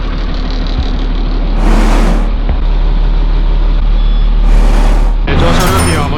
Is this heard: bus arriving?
yes